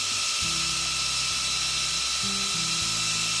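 A knife blade's edge is ground down to the grind line, producing a steady high motor whine with a low hum that shifts in pitch as the blade presses against the grinder.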